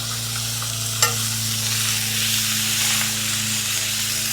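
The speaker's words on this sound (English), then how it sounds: "Really quick sear on one side." Meat searing in a very hot pan gives off a loud, continuous hiss and sizzle with a steady low hum underneath and a single sharp tap early on, close up and without speech.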